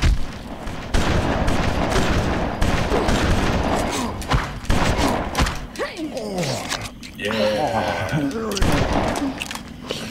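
Weapons fire in the video game BloodRayne, with bursts of gunshots and booms punctuating dense game action and effects, loud throughout, mixed under talking voices.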